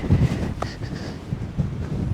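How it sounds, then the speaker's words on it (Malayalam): Strong wind on a Swedish island by the water buffets the microphone in low, rumbling gusts, a rough blustery roar with no voices. "ഭയങ്കര കാറ്റ്"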